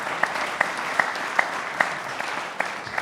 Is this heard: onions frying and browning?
no